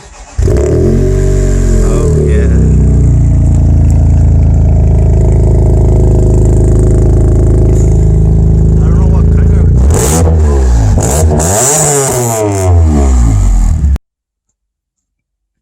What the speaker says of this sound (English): gonna give us a little cold start. I think he's got an exhaust too.